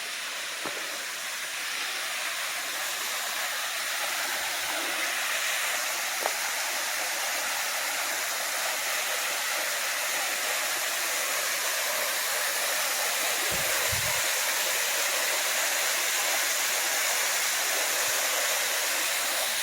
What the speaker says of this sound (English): Absolute gorgeous waterfall.